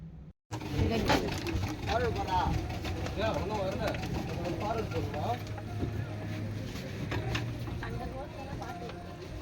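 A continuous boat rumble and wind wash fill a ride through mangrove backwaters near Pondicherry, with people's voices heard over the engine and water throughout.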